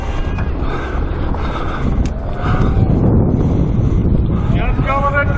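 Strong wind buffets a microphone outdoors, a loud continuous low rumble with gusts, while people talk over it near what sounds like a boat on water.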